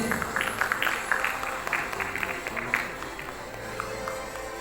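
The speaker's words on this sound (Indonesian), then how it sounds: "Baik, boleh tepuk tangan sekali lagi." A room of audience members clapping at an election discussion event in South Jakarta, brisk clapping at the start that thins and fades over a few seconds amid reverberant hall noise.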